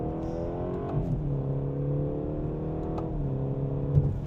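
A 2017 BMW 430i M-Sport with a 250-horsepower 4-cylinder turbo engine pulls away hard from a red light, heard from inside the cabin as a steady, moderately quiet engine drone that shifts pitch at two gear changes.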